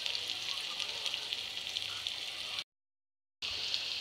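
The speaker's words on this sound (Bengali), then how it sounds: "30টা মাছ ভাজা হয়ে গেছে" Fish fry in hot oil with a dense, continuous sizzle close to the microphone, broken by a brief silent gap before the crackling resumes.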